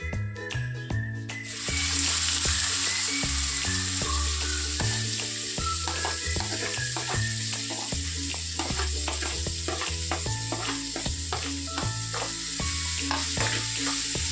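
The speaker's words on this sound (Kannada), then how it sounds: "ಇವಾಗ ಈರುಳ್ಳಿ ಹಾಕ್ಕೊತೀನಿ." Chopped onions hit hot oil with cumin for egg bhurji, a loud sizzle that surges after the first second and stays strong while a spatula clinks and scrapes in a busy, rhythmic stir.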